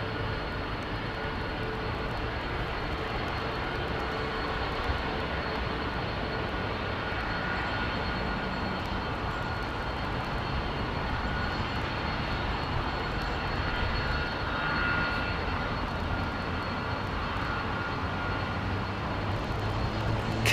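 Jet engines of an Iberia Airbus A330 at London Heathrow Airport give a steady, broad roar that holds at an even level for the whole stretch, with no talk over it.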